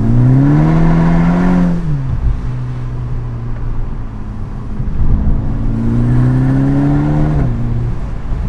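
Volkswagen Golf GTI Edition 35 with a Stage 1 tune and custom stainless-steel exhaust, engine revving up loudly and close, dropping back, then climbing in a second strong rising pull before easing off again.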